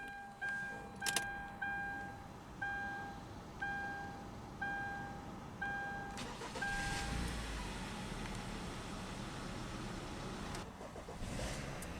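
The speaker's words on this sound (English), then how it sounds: "let's go ahead and start the engine." A 2014 Kia Sportage LX AWD's warning chimes ding repeatedly, then the engine cranks and catches, settling into a steady idle with a faint cabin hum.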